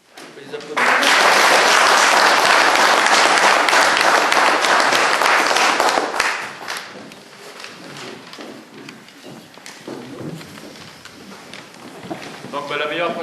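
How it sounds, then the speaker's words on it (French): Loud, dense applause from an outdoor audience at a dog handling event, honoring young dog handlers, swells abruptly, holds for several seconds, then drops away into scattered claps and background crowd murmur with some talking. "On peut les applaudir."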